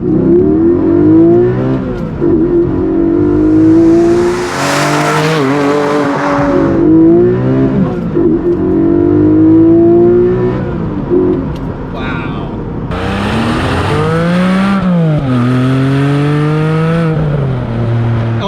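A Porsche 718 Cayman GTS 4.0-litre mid-engine flat-six revs hard through repeated rising and falling sweeps, climbing to loud high-pitched howls between gear changes, close and powerful.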